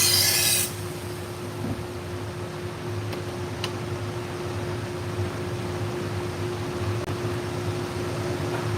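Steady abrasive rasp of a 120-grit belt grinder sharpening a stainless steel knife, continuous and fairly loud with a low motor hum underneath, after a brief brighter burst at the start.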